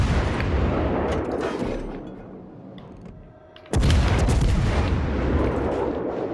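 Warship guns fire at an enemy ship in a naval battle game, a sustained rumbling barrage that fades and then hits again with a sudden loud blast and heavy rolling booms, no voices.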